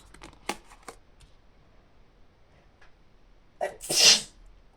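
A single loud sneeze up close, preceded by a quick sharp intake of breath, after a few faint scattered clicks.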